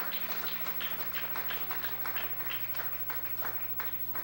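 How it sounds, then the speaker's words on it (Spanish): A church congregation claps together, rhythmic pulses of hand claps repeating at a moderate distance, fairly soft overall and holding a loose beat throughout. "¿Cuántos aplauden el nombre poderoso del Eterno?"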